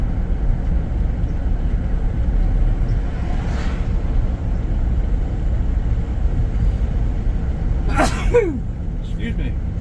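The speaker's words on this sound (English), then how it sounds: "The sneezes, I used to be able to control them." A single sharp sneeze bursts out around the eight-second mark over steady road rumble from a car driving on a highway in Georgia, with an earlier faint exhale.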